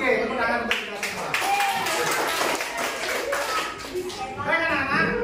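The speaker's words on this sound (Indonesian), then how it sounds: "Oke, tepuk tangan untuk kita semua." A children's class claps together in a bright, busy patter of small hands, with children's voices chattering over and around the clapping.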